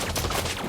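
Gunfire in the video game Elite Dangerous, dense overlapping shots in a rapid burst, loud and close, with no talking over it.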